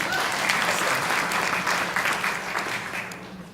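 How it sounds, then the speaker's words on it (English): An audience at a tribal revenue-sharing distribution event gives a round of applause for the comptroller, a loud, sustained clatter of many hands clapping that thins slightly toward the end. "So big round of applause for Jackie"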